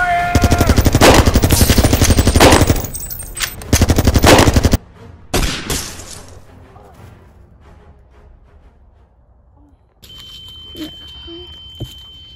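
Rapid automatic gunfire bursts loudly in a video game, dense close rattling for about five seconds with a short pause, then scattered single shots and fading noise, with a beep tone near the end.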